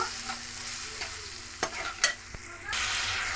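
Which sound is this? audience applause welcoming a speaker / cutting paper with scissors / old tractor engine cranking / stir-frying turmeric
stir-frying turmeric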